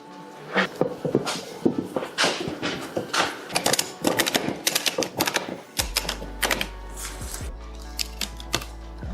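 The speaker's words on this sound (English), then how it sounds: "Start ratcheting it in." A ratchet strap being cranked tight around a homemade archery target on a 2x4 base, giving rapid clicking bursts in uneven runs, close and fairly loud, with no voices.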